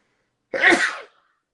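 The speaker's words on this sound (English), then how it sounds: "that's my first sneeze of 2021 and 2020." A single sharp sneeze erupts out of silence, close and loud, then cuts off quickly.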